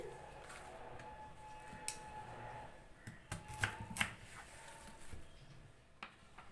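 Tender, freshly pulled radish being cut with a knife, giving a handful of soft, close cuts and taps scattered over a quiet kitchen background, without speech.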